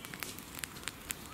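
Campfire crackling in woodland at night, a handful of sharp pops spaced irregularly over a soft, steady background hiss, close by and fairly quiet.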